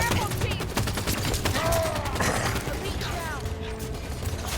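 Gunfire in the Halo 5 campaign, dense overlapping rapid shots and mechanical weapon clatter going on throughout, loud and continuous, with some voice mixed in.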